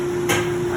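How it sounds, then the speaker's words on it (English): A single sharp knock from steam hammer in a steam system, standing out briefly over a steady hum of machinery. "that is steam, it's called a steam hammer"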